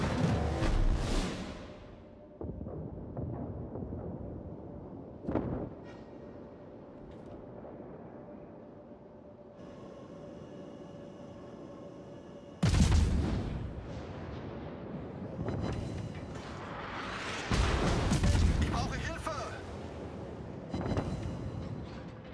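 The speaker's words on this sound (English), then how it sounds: "All stations, concentrate fire on the target." Naval guns firing from a warship in a video game, heavy booms that strike at intervals and roll out into long rumbling tails, with some gaps of quieter background between the loud salvos.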